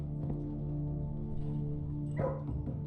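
Dogs bark in the Blue Prince video game, a soft bark or two rising briefly over a steady droning game soundtrack.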